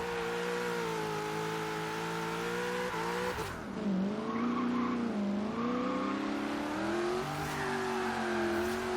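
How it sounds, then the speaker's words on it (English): A Ford Falcon in Forza Horizon 3 does a burnout in third gear, its engine droning at steady high revs and then swelling and wavering as the rear tires spin, loud and continuous with no talking. "I could do a burnout in third gear"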